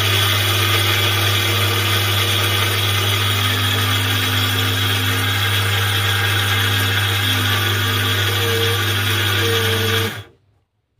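A Nima electric mixer grinder runs steadily, grinding rice into powder with a loud, continuous motor whine and rattle for about ten seconds before cutting off abruptly into silence.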